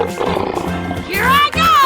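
A lion roars in a video game: a loud, rough, tonal cry rising and wavering in two bursts after a stretch of louder mixed game noise, all close and prominent.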